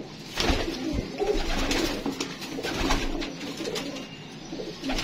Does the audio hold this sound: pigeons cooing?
yes